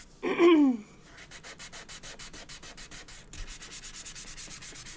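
Rhythmic hand sanding of wood-burned wood, steady back-and-forth scratchy strokes close up, after a brief higher-pitched squeak at the start.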